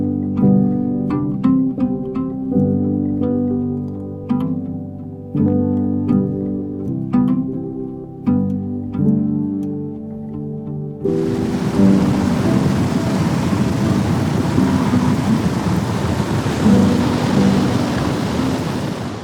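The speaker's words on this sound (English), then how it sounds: "There's nothing like exploring out here in the rain." Heavy rain with thunder outdoors in Oregon's waterfall hiking country: a loud, dense, steady roar that sets in abruptly after a stretch of plucked tonal music and holds to the end.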